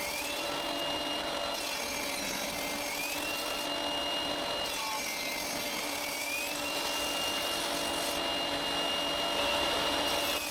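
A power tool cuts a small piece of walnut wood into thick strips, a continuous fairly quiet whining drone with slight pitch shifts as the blade works, no talking.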